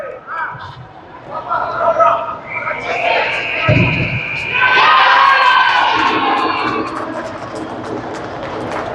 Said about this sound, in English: And you can hear that cheering in the field next door.